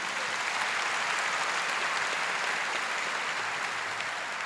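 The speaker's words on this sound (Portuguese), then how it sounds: "Pode aplaudir." Dense, steady applause from a church audience during a talk by a monsignor, continuous and even throughout with no voices standing out.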